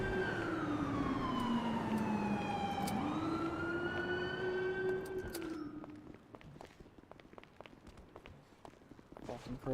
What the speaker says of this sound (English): Motherfuckers need to secure their goddamn sirens.